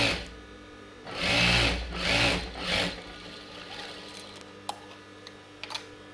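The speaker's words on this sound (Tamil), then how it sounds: "இது இப்படி திருப்பி இது மேலே ஒரு தையல் போடலாம்." A sewing machine stitching a blouse runs in a few loud, steady bursts of rapid needle clatter, then falls quiet apart from scattered light clicks and taps.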